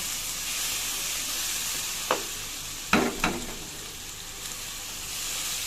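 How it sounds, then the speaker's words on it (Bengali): Blended mustard paste and onion with turmeric are stir-fried in hot oil, giving a continuous close sizzle broken by a few sharp scraping strokes of the spatula. "এই যে ব্লেন্ড করে রাখা সরিষা আর হচ্ছে পেঁয়াজটা আমি দিয়ে নিব দিয়ে সুন্দর করে এখানে নেড়ে চেড়ে নিব"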